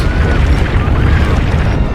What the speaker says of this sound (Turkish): Bakın uçak patladı ya.